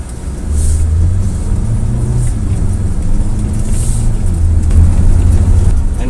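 Kia K5 sedan accelerating in sport mode, a steady engine hum with low droning tones that rise and shift across several gear changes, heard from inside the car with no talking.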